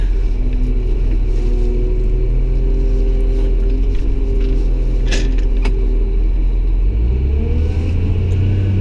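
Front end loader at a dirt work site, its diesel engine droning steadily at close range with a tonal hum, then revving up louder and lower as the machine moves, with faint metallic clanks along the way.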